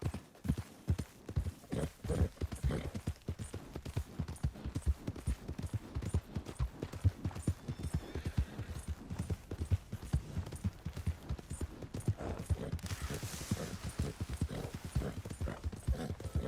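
Rhythmic hoof clip-clops from a horse at a steady gait in Red Dead Redemption 2, continuous and fairly close, with faint background sounds.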